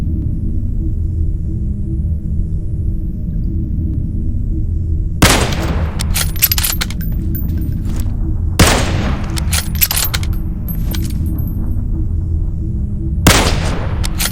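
Booming gunfire bursts from PUBG Mobile over a steady low rumbling hum, with three loud volleys of shots cracking out at intervals and trailing off between them, no talk.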